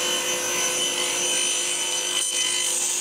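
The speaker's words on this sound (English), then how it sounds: "Now I set up the blade on my table saw to cut grooves in the sides for the bottom and back panels." A table saw blade cuts grooves into wood panels, giving a steady, close rasping whine that runs continuously with only a slight dip near the end, and no voices.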